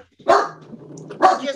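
Dog barking during an online board meeting, two sharp close barks about a second apart, loud over a quiet background.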